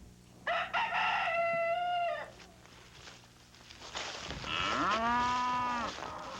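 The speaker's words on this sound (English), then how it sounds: "These cattle are mooing because they're hungry." Hungry cattle on a drought-stricken farm give two long, loud moos in turn, each drawn-out call rising and falling, with a quieter pause between them and no voices.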